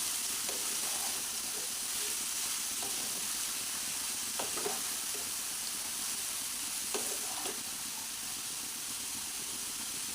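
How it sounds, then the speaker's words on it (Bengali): Grated bottle gourd frying in oil in a pan, stirred now and then: a steady broadband sizzle throughout with a few soft spatula scrapes and knocks, moderately quiet, no voices. "অর্ধেকটা প্রথমে একটু ভালো করে নেড়ে চেড়ে নিচ্ছি"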